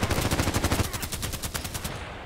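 Rapid automatic gunshots from a video game, a fast rhythmic burst of close, loud reports that thins out and fades near the end.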